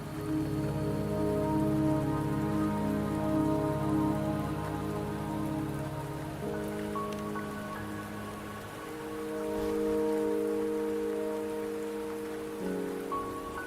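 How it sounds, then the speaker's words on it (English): Steady rain falls in the video game Wuthering Waves, a soft, even patter on surfaces that continues throughout, with tonal game music underneath. "Don't worry, the rain won't last much longer."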